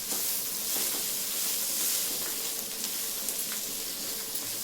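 Masala with coriander leaves fries in a pan, giving a close, continuous sizzle and hiss with small crackles and occasional stirring.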